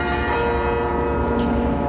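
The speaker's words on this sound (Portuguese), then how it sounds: "é a Sara Rosa Elias, entusiasmou-se pelos carrilhões" Carillon bells at the Mafra convent ring out in a steady, resonant wash of overlapping tones, loud and continuous with no speech.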